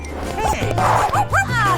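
A dog in a video game gives a few short barks and whimpering yips over a steady background hum, with a faint voice present.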